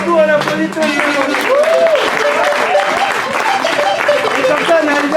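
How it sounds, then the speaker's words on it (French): Audience applause after a village storytelling performance, dense clapping with voices calling out over it and talk mixed throughout, steady and fairly loud for the whole stretch. "applaudit tout le monde."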